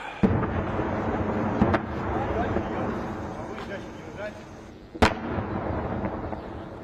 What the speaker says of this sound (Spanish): Cada vez se acercan más los golpetazos, las explosiones